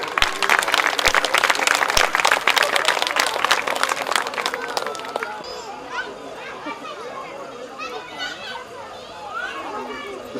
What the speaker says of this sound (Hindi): तालियां जरूर बजाएं